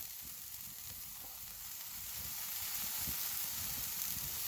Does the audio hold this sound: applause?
no